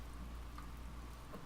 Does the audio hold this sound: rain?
yes